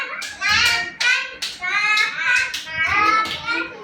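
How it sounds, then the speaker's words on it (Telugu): Several children clap their hands during a game, loud irregular bursts of claps close by, mixed with children's excited voices and chatter. "క్లాప్స్ కొట్టండి."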